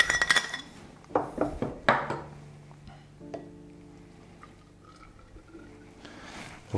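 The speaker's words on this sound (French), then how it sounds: "On va le verser directement dans un siphon." Pélardon cheese mousse going into a cream siphon, with clinks and knocks of metal and glass early on, then quieter pouring and faint handling sounds before another clatter at the end.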